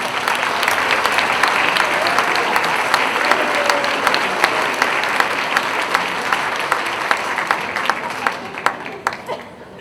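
A large audience at a school division convocation gives a round of applause, dense clapping from a big hall, steady and loud before thinning toward a few scattered claps at the end.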